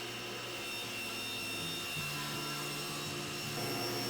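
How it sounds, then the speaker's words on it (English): A shop dust collection vacuum runs steadily in a woodworking workshop, a constant broadband whoosh with a low hum, holding an even level throughout with no talking. "Apparently, you actually need to turn on the vacuum as well."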